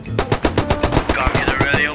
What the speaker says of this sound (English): With shots getting closer and closer, we knew enemies were nearby.